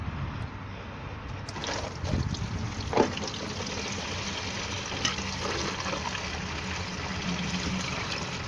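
Water poured from a container into a car radiator during a coolant and thermostat change, a steady close trickling pour with a brief louder splash, no talk.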